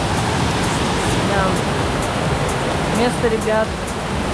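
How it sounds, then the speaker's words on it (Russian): Small jungle waterfall pours steadily among rocks, a broad constant rush close by, with voices talking briefly over it near the end. "И все время вода, видите, течет. И вот там водопадик."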